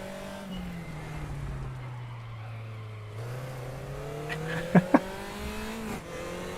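A Crosley 9S race car in the RaceRoom Racing Experience game spins out, its engine dropping and rising in pitch with a couple of sharp tire squeals, no voices.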